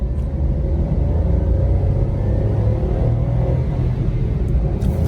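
A Maruti Suzuki Alto VXI engine, just changed to 0W-20 oil, runs steadily with a low, even rumble, heard from inside the vehicle, with no talking.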